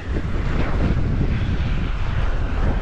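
Strong wind buffets the microphone while walking along 55th Avenue in Lachine, Montreal, a loud continuous rumbling roar with gusty fluctuations and no other clear sounds.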